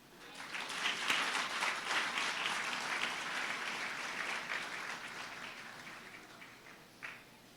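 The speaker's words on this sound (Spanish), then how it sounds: "¿Eso no merece un aplauso?" Applause from an audience at a Christian foundation's conference, a broad steady wash of clapping that swells early, holds, then tapers, with a brief sharper burst near the end.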